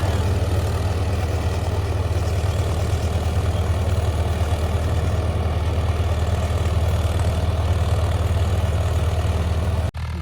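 An 855 tractor engine running steadily under load while driving a super seeder in third gear, a loud, continuous low rumble that holds close and even throughout.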